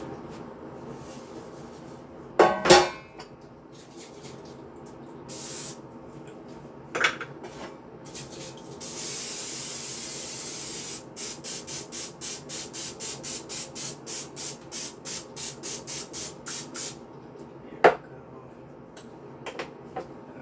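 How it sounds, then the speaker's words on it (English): A sustained hiss of olive oil cooking spray onto a pan for a couple of seconds amid kitchen clatter, followed by a quick series of rhythmic clicks and occasional clanks of a pan. "I'm just using olive oil cooking spray."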